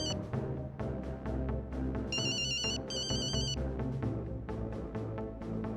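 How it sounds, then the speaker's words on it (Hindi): A mobile phone ringtone plays a repeating electronic melody with high beeping tones, fairly quiet against a busy musical background. "तुम्हारा फोन बज रहा है।"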